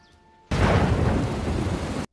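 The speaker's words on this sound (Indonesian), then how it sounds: "Malam hari pun tiba, cuaca pada saat itu hujan badai." A night thunderstorm with rain bursts in suddenly as a loud, steady roar of downpour and rumbling thunder, then cuts off abruptly after about a second and a half.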